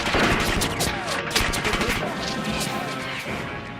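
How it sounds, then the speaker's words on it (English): Bullets ricochet off the steel girders of a bridge in Vietnam, a dense run of sharp cracks and metallic pings over continuous loud gunfire, with whizzing streaks and impacts crowding the whole stretch. "One of my recollections was the bullets flying off the bridge's steel girders."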